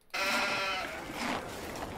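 Sheep in a farm simulator game: a single sheep bleat, loud and close, lasting under two seconds with a wavering tone.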